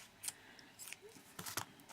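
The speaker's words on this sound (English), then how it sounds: "with some really blunt scissors" Blunt scissors snip through thread in a few quick, faint cuts close by, with soft handling noises between them.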